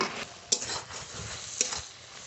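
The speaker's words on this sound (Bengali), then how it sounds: "বন্ধুরা এই ধুন্দল ভাজার সময় কিন্তু প্রচুর জল বের হয়" Sliced ridge gourd cooking in a pan over strong heat to dry off its released water, stirred with a utensil; soft sizzling runs throughout with two sharp clinks of the spatula against the pan, and no talking.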